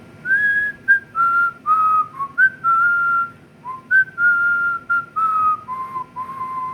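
A single person whistles a wandering tune solo, a clear melodic line of sustained notes broken by short pauses, close and fairly loud over a faint background hum.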